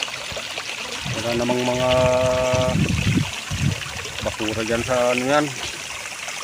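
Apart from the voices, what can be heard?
flowing stream water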